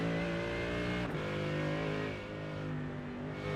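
A GT3 race car at Sonoma in a racing game, engine held on throttle with a smooth, steady high-pitched drone and a brief dip before it settles back to a constant, loud tone.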